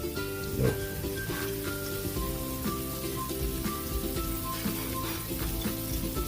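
Chicken afritada sizzling in a pan as sweet chili oil goes in, a soft steady frying crackle under a backdrop of tonal music, with no talking.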